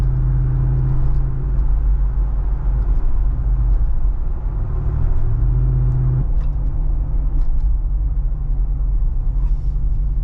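A Jeep 392 drives down a road, heard from inside as a loud, continuous low engine rumble and road noise with small shifts in pitch, and no one speaking.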